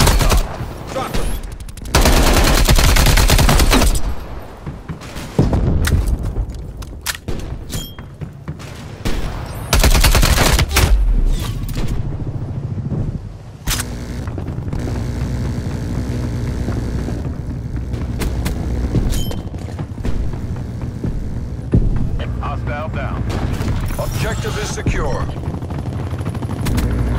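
Attack helicopter gunfire in the Call of Duty Black Ops Cold War video game: loud bursts of rapid fire and explosions over a thrumming rotor, with radio voices talking between volleys.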